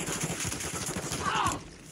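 Gunfire in the Warzone battle royale game, a dense rapid crackle of shots running through the whole stretch under game noise, with a brief sharper burst near the end.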